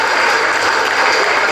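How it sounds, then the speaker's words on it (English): Loud, dense applause from the audience at a women's college graduation ceremony, a continuous close roar of many hands clapping for the students. "I request the audience to encourage the students with their big applause."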